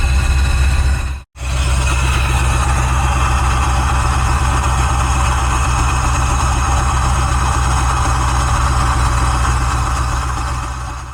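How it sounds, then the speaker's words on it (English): A Joker C10 truck engine idles right after its first startup, a loud, steady, low rumble that holds for about eleven seconds, broken only by one brief gap near the start. "we just did our first startup on the Joker C10"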